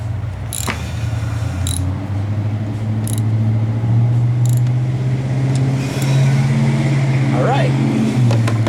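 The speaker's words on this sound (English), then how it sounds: "Little Ford Bronco startup out there, cold start for you cold start Ford Bronco fans." A Ford Bronco truck engine on a cold start, settling into a steady low idle with a rhythmic throb, heard from nearby outdoors with a person talking over it.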